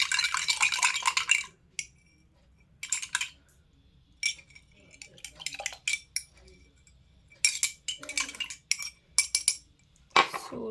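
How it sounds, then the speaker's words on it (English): A spoon being washed, with bursts of clinking metal and rushing water against dishes, coming in several short separate spells with quiet gaps between, close and fairly clear. "so done washing our spoon"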